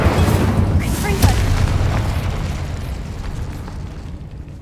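A Confringo fire-blast spell from the game Hogwarts Legacy goes off as a loud, close boom with a sharp burst, then a rumbling, crackling tail that slowly fades, with faint voice-like sound mixed in.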